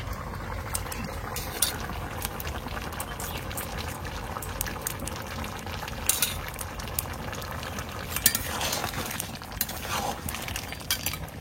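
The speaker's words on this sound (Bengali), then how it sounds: "উনুনের জাল কি সুন্দর তরকারি ফোটে।" Curry with ash gourd and crab bubbling steadily in a pot over a wood-fired clay stove, a continuous close simmering hiss with scattered small clinks and pops throughout.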